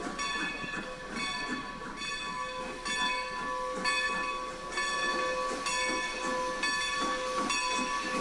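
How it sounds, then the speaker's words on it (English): A small ride-on train for young children in Lancaster County, running nearby with a continuous loud hiss, a steady whining tonal drone and a faint regular clatter throughout, no voices. "it's a little road with a little train for little kids to ride on"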